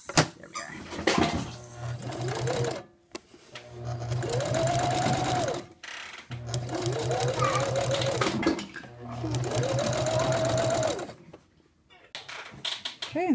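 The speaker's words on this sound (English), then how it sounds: "So I'm just sewing right along the same spot." A sewing machine stitches ribbon onto fabric in three or four steady whirring runs separated by short pauses, with a voice speaking over it.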